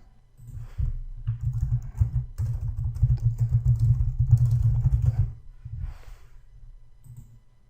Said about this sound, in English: And just type something.